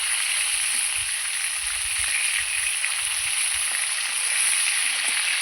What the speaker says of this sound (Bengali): মাথাগুলো ভাজা হতে থাক এই যে মাছের মাথাগুলো কিন্তু আমার ভাজা হয়ে গেছে